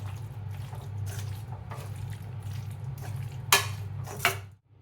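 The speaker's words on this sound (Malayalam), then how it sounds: "ഇത് നന്നായിട്ട് മിക്സ് ചെയ്യുക." Avial stirred after a pour of raw coconut oil, steady scraping and mixing strokes under a constant low hum, with two sharp utensil clinks near the end before it falls quiet.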